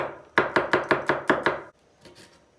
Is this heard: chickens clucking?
no